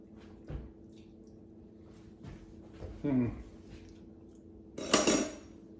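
A spoon clinks against dishes while a dish of spaghetti squash with chicken thighs, tomato and peppers is tasted, giving a few scattered metallic taps and clatters with a sharper clang near the end, under quiet talk.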